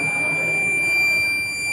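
Buzzer on anti-drowsiness glasses, set off when the wearer's eyes close: a continuous, loud, steady high electronic tone sounding alone for the whole stretch.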